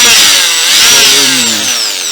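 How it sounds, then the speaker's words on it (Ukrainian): A Dnipro-M rotary hammer runs loudly and close at full speed, a continuous high whining motor with gear grinding and a slight shift in pitch, no voices. "думав, перфоратор не відключається"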